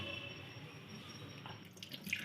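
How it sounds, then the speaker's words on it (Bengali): Raw mutton being rinsed under a running kitchen tap, a steady wash of water splashing into a sink with faint dripping, close and continuous with no talk. "মাংসটা একটু ধুয়ে ফেলি"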